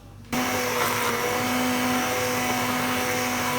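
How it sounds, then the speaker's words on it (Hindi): A kitchen blender switches on abruptly and runs with a steady, loud motor whine while blending yogurt with turmeric powder and spices for a smoky chicken gravy. "इन सब चीज़ों को दही के अंदर हम ब्लेंड कर लेंगे"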